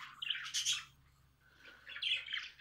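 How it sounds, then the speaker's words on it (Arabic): Sparrows bathing in a water dish give bright, busy chirps and squawks in two bursts with a quieter gap between them. No one speaks. "لو تحط بس معلقة واحدة وتخلي العصافير تتروش"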